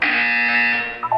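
A loud, steady electronic buzzer tone in the video game Portal 2 sounds once for about a second, then cuts off into a brief softer blip.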